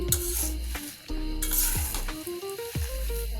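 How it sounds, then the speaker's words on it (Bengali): Dry red chillies are stirred in hot salt in a pan off the heat, giving a close, gritty rustling sizzle broken by repeated scraping knocks of a utensil against the pan. "মরিচটারে পাল্টা করে নাড়তে থাকবো"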